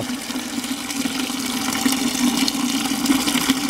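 Water pouring steadily from an antique tractor into a bucket, a continuous close splashing stream that grows slightly louder as the bucket fills.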